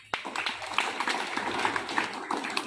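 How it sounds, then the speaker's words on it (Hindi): A group of children claps in a room during a talk, giving a scattered patter of uneven, fairly faint claps that continues for a few seconds. "इनके लिए भी ताली बजाओ।"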